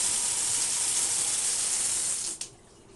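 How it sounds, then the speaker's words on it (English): A newly plumbed kitchen faucet in a home renovation runs in a steady, close hissing stream for over two seconds, then shuts off abruptly, leaving a quiet room. "That's the first time there's been running water in this kitchen in a month and a half."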